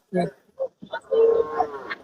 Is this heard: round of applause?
no